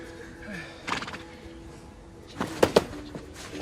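A horse neighs twice in quick succession late in the moment, preceded by an earlier softer whinny and faint clip-clop of hooves, set among Mongolian herders who train horses; fairly close, with no talking over it.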